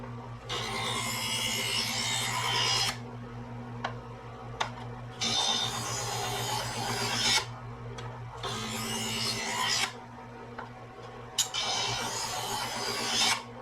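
A knife blade is drawn through a hone sharpener in four long, loud rasping strokes separated by short pauses, with faint clicks between passes and a low hum underneath.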